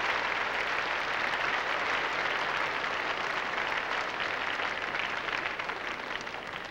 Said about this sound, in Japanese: 大きな拍手が沸きました。